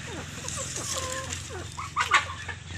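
Several domestic chickens cluck and squawk close by at feeding time, with short overlapping calls and a louder burst near the end.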